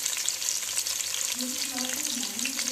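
Onion pieces and five green chillies frying in hot oil for a prawn and gongura curry, a steady close dense sizzle with faint stirring scrapes throughout, no talking.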